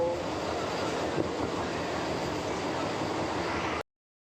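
A train rumbles steadily throughout, a loud continuous roar of wheels and carriages in motion, heard from inside, ending abruptly.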